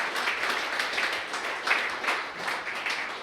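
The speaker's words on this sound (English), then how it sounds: "Can I please get a round of applause for our sponsors today?" Conference audience at a finance brokers' day clapping for the event's sponsors: a dense, even round of applause with a slight ripple in loudness, continuing throughout.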